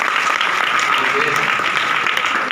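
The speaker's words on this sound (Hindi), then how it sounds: "यस तारे जोर ताली बजे प्रभु को प्रशंसा" A church congregation claps together in praise of the Lord during a sermon, a dense, steady wash of hand claps at moderate loudness, continuous and even throughout with no clear pauses.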